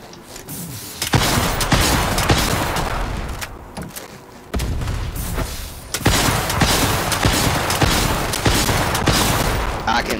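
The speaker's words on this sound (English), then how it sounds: "I can spit out rockets like nobody's business, believe me." Rapid bursts of rocket launcher fire and explosions in a video game boss fight, loud and dense, with short pauses between volleys and a voice talking over the action.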